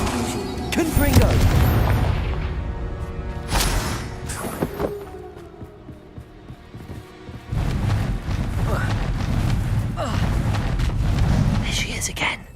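Loud booming blasts from the Confringo fire spell in the Hogwarts Legacy video game, a few heavy explosions with rumbling tails and other game effects over about twelve seconds, with someone talking over them.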